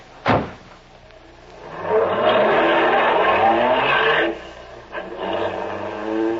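A car pulls away in a 1940s radio drama sound effect: a door thump, then the engine revving up loudly and droning steadily before easing off and surging again, close and alone.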